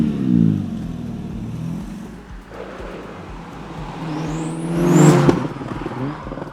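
A 550 hp Ruri Blue Mitsubishi Evo 9 FQ rumbles and revs on the road, building to a loud surge of acceleration with a sharp turbo whistle near the end. The sound is heard from close by, from inside the car.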